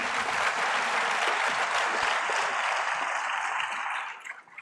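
Loud, dense applause fills an award ceremony hall at Vigyan Bhavan for a bronze medalist, steady clapping from a large audience that holds for several seconds before tapering off.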